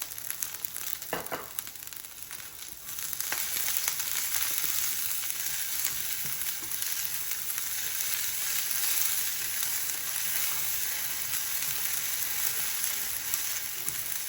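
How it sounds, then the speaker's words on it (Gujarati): Olive oil drizzled over tomatoes and asparagus roasting in a hot pan sets off a steady, close sizzle that swells louder after the first few seconds and holds without any talk. "ટમેટા અને અસ્પાગરા થોડા રોસ્ટ થઈ ગયા છે, એટલે આપણે એમાં થોડું ઓલિવ ઓઇલ ડ્રીઝલ કરી દઈએ."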